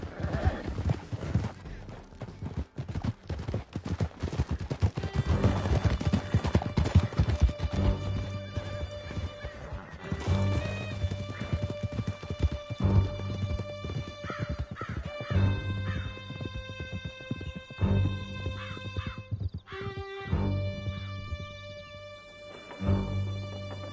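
Horses galloping in Red Dead Redemption 2, a dense rapid drumming of hooves with whinnies and crow-like caws, loud and close, easing into scattered hoofbeats and sparser calls toward the end.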